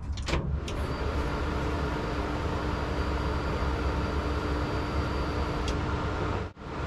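A 1950 GMC truck engine, fitted with a Holley Terminator X and a new MAP sensor, runs at a steady idle, a continuous close-up drone that cuts out briefly near the end.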